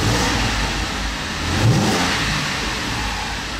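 Audi A6 C6 FSI petrol engine with an ignition misfire being revved, a steady close mechanical drone that swells briefly in a short throttle blip midway, then settles back to idle, with no voices.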